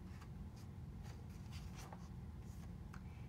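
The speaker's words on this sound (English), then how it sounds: "We'll just draw a smile on it and add some googly eyes." Marker or pen drawing a smile on a cucumber, heard as soft, close scratchy strokes in quick bursts over a steady low background hum.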